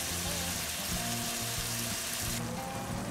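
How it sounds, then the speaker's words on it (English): Ground beef and potatoes with vegetables simmer in a hot pan with a constant dense sizzle and a low steady hum beneath, loud and close, without speech. "So I'll just let this simmer for a while, and I'll just keep turning it around."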